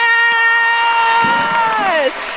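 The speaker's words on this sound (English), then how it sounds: "Can we get one more round of applause for her?" At a VCU School of Social Work commencement ceremony, a loud, sustained high cheer from the audience holds steady, then slides down in pitch and breaks off.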